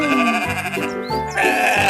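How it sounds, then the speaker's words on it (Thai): Sheep bleat loudly and close by, with several wavering bleats following one another in quick succession in a cartoon farm scene. "ดูแกะของเราสิ น่ารัก"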